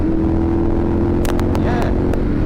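A 2010 Ducati 696 Monster motorcycle riding down narrow country lanes, its engine a steady, loud low drone close to the rider, with wind rush and a few sharp clicks partway through.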